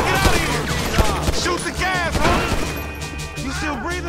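Rapid gunfire bursts in the video game GTA V, sharp repeated shots and crashes mixed with game music and effects, loud and close while people talk over it.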